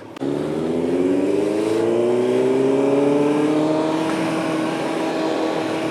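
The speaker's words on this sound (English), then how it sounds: "Watch out, there's a car coming." A car approaches and passes on a road in the Smoky Mountains, its engine loud and close with a rising tonal whine that swells and then slowly fades, and no talking.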